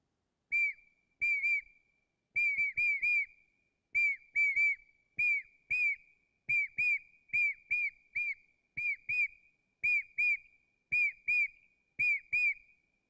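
A 2,800-year-old ancient whistle, once used by a shepherd to call his sheep, blown in a bird-like pattern: clusters of sharp, piercing chirps and short trills repeated in rhythmic bursts, loud and close, with no talking.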